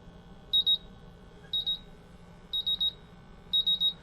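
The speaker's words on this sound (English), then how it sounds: "The sensor is really fast, so it goes into alarm really quickly." A MultiRAE gas detector sounds its alarm buzzer as its PID sensor is bump tested with isobutylene gas: four evenly spaced bursts of high, piercing double and triple beeps, loud and close over a faint background hum, with no voices.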